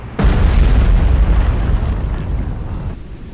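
A torpedo detonates in the Cold Waters submarine simulation during a defence of Taiwan, hitting as a sudden heavy boom that becomes a loud, deep rumble and slowly fades over about three seconds.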